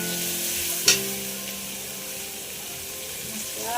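Tomatoes hit hot oil in a pot of country-chicken curry, a loud crackle at the moment they go in settling into an even, close sizzle with faint stirring, no talk.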